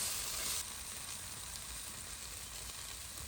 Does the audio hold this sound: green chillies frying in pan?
yes